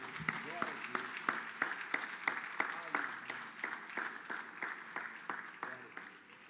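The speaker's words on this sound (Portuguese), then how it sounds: "Você pode aplaudir ao nome do Senhor." A church congregation claps in sharp, rhythmic bursts that keep going steadily, with voices faintly audible underneath the applause.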